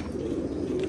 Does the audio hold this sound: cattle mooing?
no